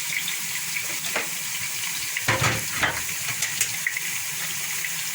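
Onion frying in a pan for egusi soup gives a steady, fairly faint hiss and sizzle with a few brief louder crackles, close by and with no one speaking.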